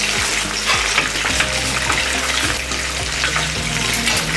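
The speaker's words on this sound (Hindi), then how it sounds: "चिकन पकौड़ा फ्राई हो रहा है हम लोगों का।" Chicken pakoda sizzling as it fries in hot oil, a steady, close crackling hiss that runs unbroken throughout with no voices.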